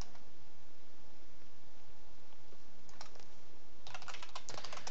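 Someone types on a computer keyboard while coding, a few scattered key clicks followed by a quick, dense burst of keystrokes, close but fairly soft, with no talk.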